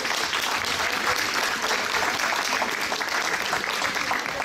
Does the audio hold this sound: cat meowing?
no